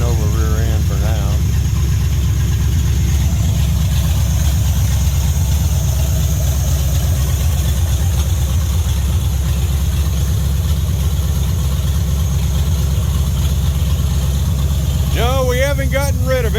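A 1949 GMC truck powered by a Buick Nailhead engine idles steadily and loudly nearby, a constant low rumble with brief high whine-like tones at the start and end, and no talk over it.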